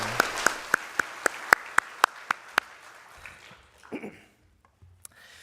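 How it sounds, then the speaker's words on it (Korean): At a church service, a congregation member claps for the worship team, about ten crisp, evenly spaced claps that fade out, followed by a brief muffled rustle and near silence. "우리 찬양팀 박수로 격려하고 축복했으면 좋겠습니다"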